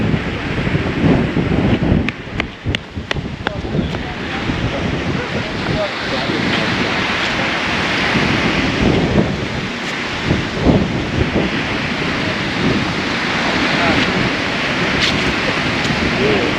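Big, choppy winter sea waves crash and roll on a grey, windy day at the Marmaris seafront, a loud continuous surf roar mixed with gusty wind buffeting the microphone, while people talk now and then nearby.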